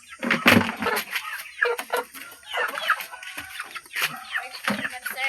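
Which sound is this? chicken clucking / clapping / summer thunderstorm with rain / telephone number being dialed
chicken clucking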